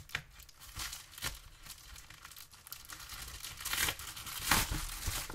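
Plastic and cardboard packaging of a 50th anniversary Rubik's Retro Cube being torn and crinkled open by hand, a steady close rustle with louder rips near the end.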